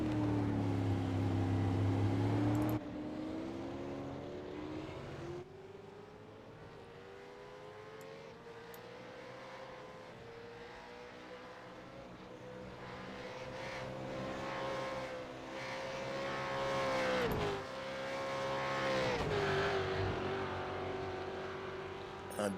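Supercars race at the Phillip Island circuit: a loud engine drone rises and falls in pitch as cars climb and pass, with several surges and gear changes across the run.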